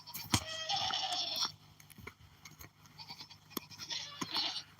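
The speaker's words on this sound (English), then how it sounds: "We'll go over here and get them goats in." Goats on a homestead bleat in two loud, wavering calls, one early and one toward the end, with scattered rustling and crunching in between.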